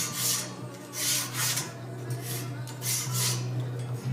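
Stainless steel grill grates of a Komodo kamado grill, 3/8-inch rods, are scrubbed with a harsh rasping brush in four or five rhythmic strokes, close and fairly loud, with no talking.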